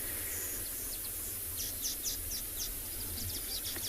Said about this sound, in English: So I don't know if you can hear all of the bird calls in the background, but just have a listen.